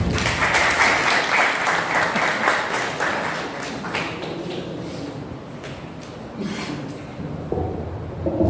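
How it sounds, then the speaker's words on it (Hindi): Audience applause at a Mistaag Foundation cultural program in Karachi, a loud burst of many hands clapping that gradually thins and softens, with scattered claps and murmurs near the end. "आपकी भरपूर तालियां उस्ताद इसाक खामोश का।"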